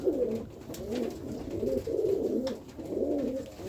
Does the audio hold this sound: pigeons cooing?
yes